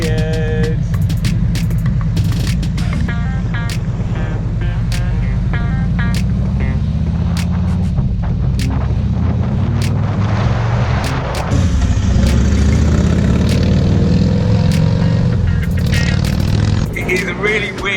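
A Harley-Davidson Freewheeler three-wheeled trike's engine rumbles steadily during a ride, with sharp clicks and wind buffeting over it and a brief swell in loudness partway through.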